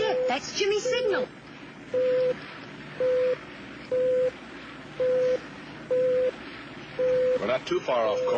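Jimmy's radio signal comes through as a steady pulsing tone, short beeps about once a second, heard over radio hiss, with talk at the start and end.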